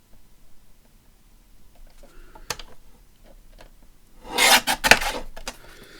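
Scissors trim the ragged edge from a page of an Edith Holden book: faint scattered ticks and rustles, then a louder rasping cut of paper lasting about a second near the end.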